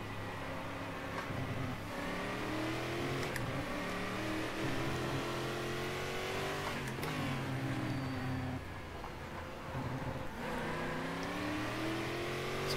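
Stock car engine in a racing sim game at Velopark, revving steadily with rising and falling pitch sweeps through the gears, loud and continuous for the whole stretch with no talk over it.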